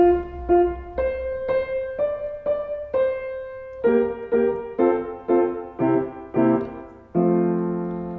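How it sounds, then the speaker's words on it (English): Piano chords are struck one after another at a steady pace, ending on a full, sustained root-position chord that rings out with a sense of resolution and finality. "If, however, you play it the correct way with the root position at the end,"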